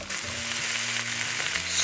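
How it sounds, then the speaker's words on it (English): Onions, bok choy, carrots and aromatics stir-fry in a pan with a close, steady sizzle and soft scraping of stirring throughout. "So we're just going to stir fry the vegetables until they become a little bit soft."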